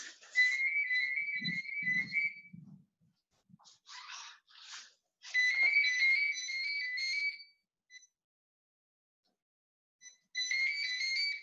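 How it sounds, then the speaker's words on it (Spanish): A phone rings in repeated electronic warbling bursts with silent gaps between them, fairly close, with a few low muffled thumps early on. "me estaba moviendo loco el teléfono que estaba sonando"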